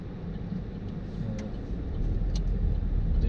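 A car rolls slowly into a private car park near the former Berghof driveway on the Obersalzberg in Berchtesgaden, Germany, its engine a low steady rumble with faint road noise that swells slightly toward the end.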